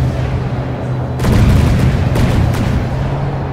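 Advanced cannons firing in the naval combat game From The Depths, two or three heavy booms over a constant loud rumbling background.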